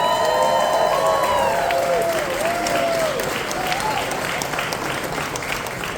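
A gala audience breaks into loud sustained clapping that slowly tapers, mixed with a few cheers and bright tonal whoops near the start.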